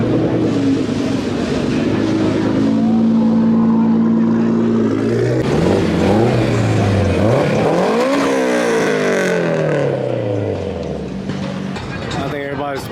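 A Nissan GT-R engine at a car meet revs loud and close, holding a steady drone before climbing and falling through sweeping rev changes, with people talking over it.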